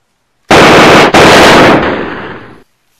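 A fully automatic shotgun fires a rapid continuous burst, extremely loud and close, with a brief break partway through, then a fading echoing tail before silence.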